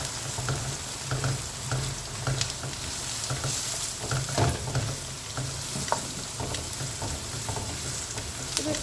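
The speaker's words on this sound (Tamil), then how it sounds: "ஸோ இந்த வெங்காயத்தை நாம் நல்லா ஃப்ரை பண்ணிடலாம்." Onions sizzle steadily in a pan, a soft continuous crackle with occasional scrapes and clinks of stirring, fairly quiet and close with no voices.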